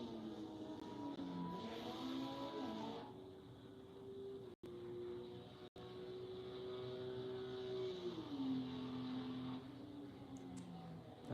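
Ligier LMP race cars pass during practice at Road America, their engines rising and falling in pitch as they approach, sweep by and shift gears at a moderate distance.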